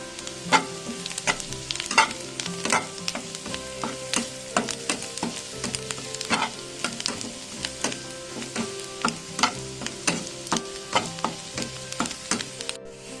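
Onions sizzle and fry in a pan for chana masala, with a steady crackle and repeated stirring scrapes at a regular rhythm, close and moderately loud throughout.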